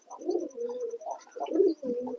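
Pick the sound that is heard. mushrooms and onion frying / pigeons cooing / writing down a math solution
pigeons cooing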